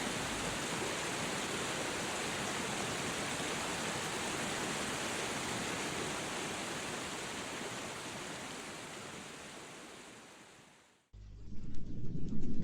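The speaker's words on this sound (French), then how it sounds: "Imaginez une grande cascade, une eau fraîche et le calme reposant de ce havre de paix." A large waterfall in the Tahiti jungle roars as a dense, steady rush of falling water for about eleven seconds, then cuts off abruptly into a quieter, different sound.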